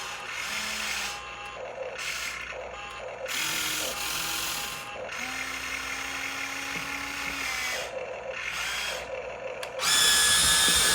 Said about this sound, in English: So what I was trying to do was turn the machine around while picking it up.